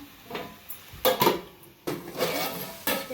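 Metal lid set onto a pan of cauliflower egg curry, a few close clanks and knocks spread over a couple of seconds with quiet pauses between, no talk.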